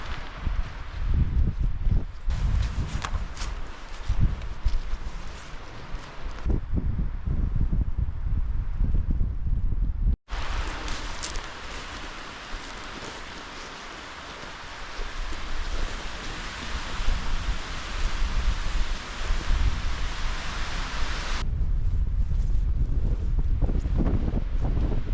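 Strong gusting wind buffets a Northumberland crag during a bivvy camping trip in a 76 mph gale, a loud continuous roar with surging gusts and microphone buffeting throughout, no speech.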